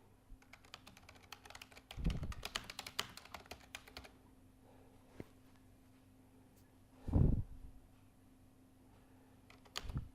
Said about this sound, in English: I'm also typing alongside.